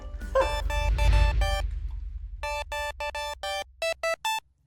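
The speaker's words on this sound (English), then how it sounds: "Make a phone, call Dr. Ranj" A phone call rings out as an electronic ringtone, first a blurred tone over a low rumble and then about nine clear, evenly spaced short beeps in quick bursts, fairly quiet and fading away at the end.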